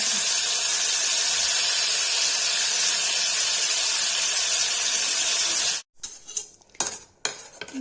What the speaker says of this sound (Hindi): नमक डाल के फ्राई कर रही हूँ